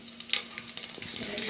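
Mustard seeds and cumin sizzle and crackle in hot oil, with close, loud, irregular spits and pops running throughout.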